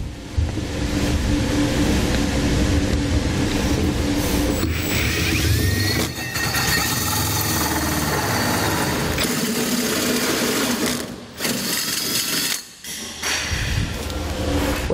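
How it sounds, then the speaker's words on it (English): A hole saw grinds loudly and steadily through the metal bed of a 2018 GMC Sierra pickup, a continuous harsh mechanical whir that briefly cuts out and restarts near the end. "Then I will enlarge it using a hole saw."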